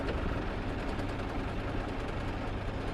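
A 16-ton road roller runs with throttle applied and its vibration engaged, giving a loud, steady low-pitched engine drone with a dense rumbling shudder that holds throughout without a break.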